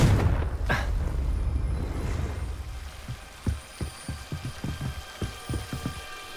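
In Hogwarts Legacy, casting the Revelio revealing spell brings a whooshing shimmer, followed by a series of soft, evenly spaced pulses with faint ringing tones above them, moderately quiet, with no talk.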